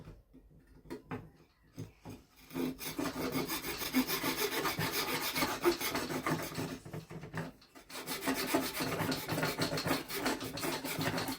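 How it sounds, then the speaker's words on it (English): A pull saw rasps steadily through a wooden dowel in quick back-and-forth strokes, close and continuous after a few brief scraping starts. "So get the old pull saw."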